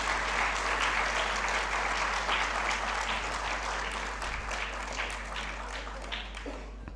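Sustained applause from an audience at the 3rd Kamla Bhasin Award (South Asia) ceremony, honoring the jury members. Steady dense clapping fills the room for about seven seconds and tapers slightly near the end, with no voices over it.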